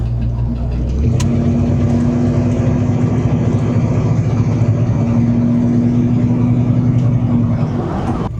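A steady engine hum with a low rumble and gentle revving, heard from inside a 1987 GMC Sierra 1500 pickup truck while driving, with no talking.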